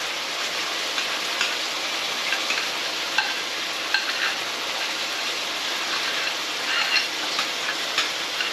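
Food sizzles and fries in a wok for a Balti curry, a steady crackling hiss with occasional stir clatters throughout, close and continuous with no talking.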